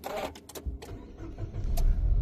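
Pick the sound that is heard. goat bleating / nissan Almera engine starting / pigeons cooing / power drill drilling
nissan Almera engine starting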